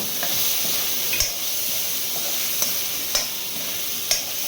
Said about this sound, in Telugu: ఇప్పుడైతే తెల్లగడ్డలు అయితే వేస్తున్నారు